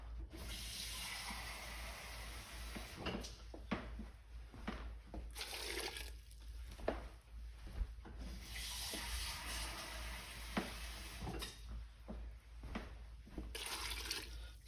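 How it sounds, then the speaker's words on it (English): Water poured into a cooking pot of eggplant and beans, a quiet splashing pour that comes in several bursts with short pauses and a low hum underneath. "So we need to add a little bit of water in there."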